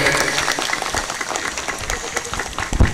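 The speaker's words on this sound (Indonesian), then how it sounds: "kasih tepuk tangan para hadirin yang kasih semangat" Audience applause at a Maulid Nabi gathering in Masjid Al Birru Pertiwi, a steady dense clapping from a crowd of attendees lasting the whole few seconds, fairly close and loud, with a brief louder burst near the end.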